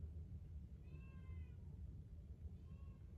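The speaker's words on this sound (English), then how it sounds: "You guys hear the cat?" Two soft meows from a cat some distance away, a longer one then a shorter one, over a low rumbling background hum.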